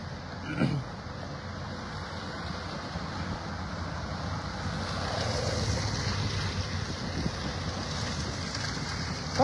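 A river runs swollen after intense rains near Cuenca in the Ecuadorian Amazon, giving a steady broad rushing wash with some wind buffeting the microphone throughout and no voices.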